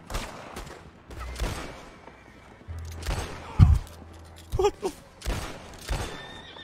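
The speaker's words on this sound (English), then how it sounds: "shooting in this game is so scuffed" Repeated gunshots and short bursts of gunfire in a Red Dead Redemption roleplay shootout, several sharp cracks spread across the clip, some close and loud, with faint horse clip-clop in the background.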